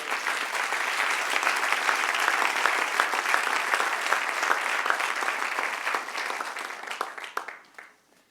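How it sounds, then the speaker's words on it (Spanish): A church congregation applauds in a sustained burst of dense clapping that holds steady for several seconds. The clapping then thins out and fades away at the end. "Dale un aplauso al Padre de la gloria."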